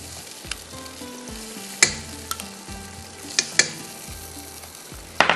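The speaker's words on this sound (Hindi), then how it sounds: "इसको थोड़ा सा मैंने भूनना है" Spices and yogurt fry in a pot for yakhni pulao with a steady, close sizzle. A few sharp clinks from stirring break through it, and nobody speaks.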